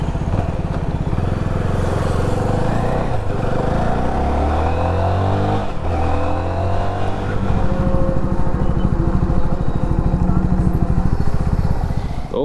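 A CFMOTO 650NK 650cc motorcycle engine runs loud and steady while riding, its drone rising and shifting in pitch through gear changes, with a brief dip midway.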